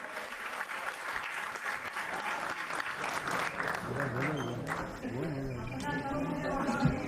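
The audience at an Urdu poetry recital applauds to welcome the poet on stage, with loud, dense clapping throughout and voices rising over it in the second half.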